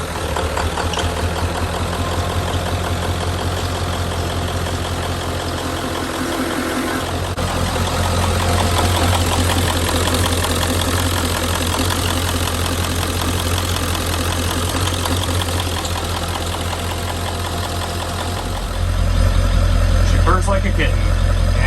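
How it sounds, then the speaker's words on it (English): A 1996 Ford F350 pickup with a 7.3 Powerstroke diesel engine turns over and settles into a steady idle. A low rumble grows louder partway through, and voices talk over it. "So now I'm going to go ahead and start the truck."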